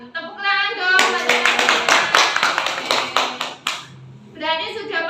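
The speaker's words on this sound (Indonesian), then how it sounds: "Tepuk tangan dong." Students clap together in a classroom, a burst of sharp, fairly quick claps lasting under three seconds, with voices speaking before and after.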